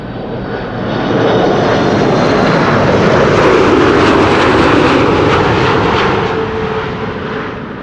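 An airliner lands at Amsterdam Schiphol Airport in windy conditions, its loud engine roar swelling steadily, holding for several seconds, then easing off, with no voices.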